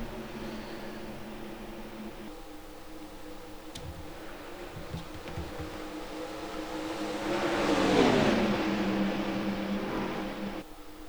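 Race cars in a racing video game roar around the Atlanta track, a steady engine drone with one car swelling loudly as it passes close by, then fading.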